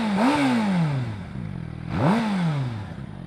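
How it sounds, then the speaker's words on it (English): A Suzuki GSX-R 600 sport motorcycle with stock exhaust revs twice, each blip rising sharply in pitch and then falling away, loud and close. "this is the stock exhaust on a GSXR 600"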